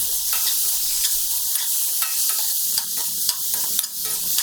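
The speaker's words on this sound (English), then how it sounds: "Now add 3 medium sized roughly chopped tomatoes. and saute it." Roughly chopped tomatoes sauteing in a hot pan for a soya kofta curry, a steady close sizzle with repeated scraping stirs of a utensil, no talking.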